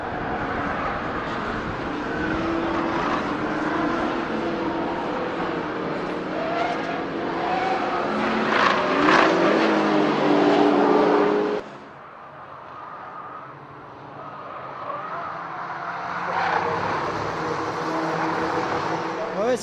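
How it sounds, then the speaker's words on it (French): Race cars including a Peugeot 207 competing at Le Mans, engines roaring loudly and continuously in a close field, easing briefly to quieter running before building again. "il y a 55 voitures qui se tirent la bourre"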